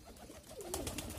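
Pigeons taking off from a rooftop boundary, with a soft coo and brief flutter rising near the end of a short, fairly quiet moment outdoors.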